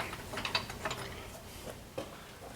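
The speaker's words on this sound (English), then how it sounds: "I mean, it sounds like it's ratcheting" A hand tool is cranked to ratchet, likely a winch or come-along pulling on a twisted clevis, producing faint clicking mechanical ticks in uneven bursts, with no talking.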